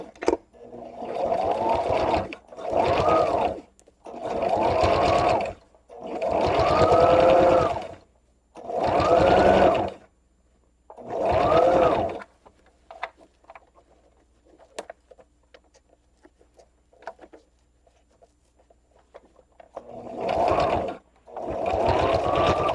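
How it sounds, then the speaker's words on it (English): Sewing machine stitching a fabric liner into a crochet purse near the zipper edge, running in several loud, steady bursts of a second or two each, separated by short pauses and faint handling sounds. "And we'll just sew along with the sewing machine, pulling the pins out as we go."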